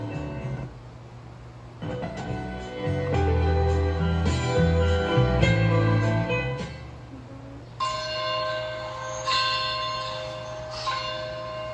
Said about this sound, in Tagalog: Habang tumutunog ang kampana ng simbahan